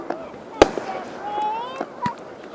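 A loud firework bang followed by a couple of smaller pops, with people's voices in the background.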